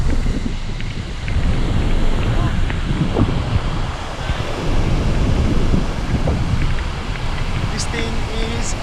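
Strong wind buffets the microphone at Blacksmith Beach, with surf rumbling beneath it. The roar is loud and continuous, rising and falling in gusts.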